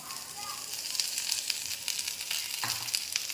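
Onion roasting in oil over a low gas flame, a steady soft sizzle and hiss running throughout with occasional faint crackles and a brief scrape of stirring, moderately close.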